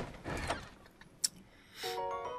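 Treasure chest opening in Breath of the Wild, a creaking mechanical lid sound and a sharp click, followed by a bright chiming jingle, quiet overall.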